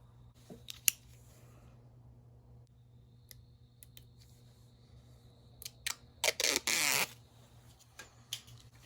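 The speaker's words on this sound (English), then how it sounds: "we're going to peel off our backing here on this 2-sided tape" Backing peeled off two-sided tape during a 2014 Mustang rear louver install, a quiet setting broken by a few faint ticks and then a short run of close, scratchy tearing rasps.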